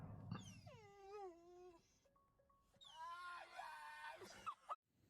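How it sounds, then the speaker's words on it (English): Cat yowling in long, drawn-out wavering cries, first a falling moan, then after a short pause a louder rising and bending wail, close and clear against a quiet background. "Cat."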